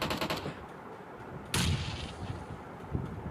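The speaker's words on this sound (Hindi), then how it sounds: "अब भाई मुझे यहाँ से फायरिंग का साउंड आ रहा था" Gunfire in the battle-royale game PUBG Mobile: a quick burst of rapid shots opens the clip, and a sharp, louder report follows partway through over low game ambience.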